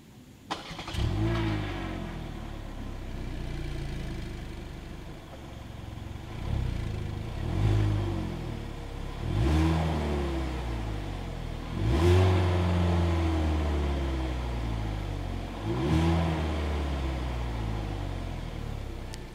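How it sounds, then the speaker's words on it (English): A 2022 Hyundai Elantra engine revs repeatedly through its exhaust, deep rumbling swells rising and falling every few seconds, close and loud. "As always, here is that exhaust clip."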